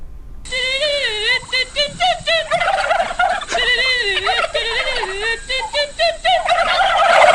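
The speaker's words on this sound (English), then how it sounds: "So we have a clip of a chicken singing." Chicken-like fowl calls in rapid, warbling sequences, loud and close, repeating in bursts that rise and fall in pitch like singing, with faint talk mixed in underneath.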